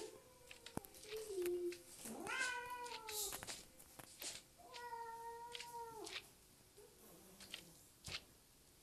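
A cat meows several times, drawn-out and whiny, close by in a quiet room, with small scuffs and taps between the calls, during Plants vs. Zombies gameplay.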